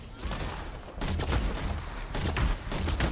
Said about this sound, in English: Let's do another mortar here just to kind of get these guys away.